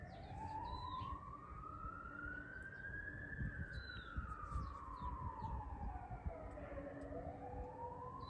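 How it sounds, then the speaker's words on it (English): An Australian fire truck siren wails in a long rising and falling sweep, loud and steady over continuous low road rumble, with a few faint higher chirps in the background. "You can listen to the siren,"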